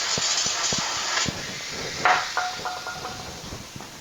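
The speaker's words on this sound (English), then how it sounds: "we'll use a little brake parts cleaner here" An aerosol can of brake parts cleaner sprays during a tire change, a close, loud hiss that runs steadily for a few seconds alongside scattered knocks and taps of handling, with no talking.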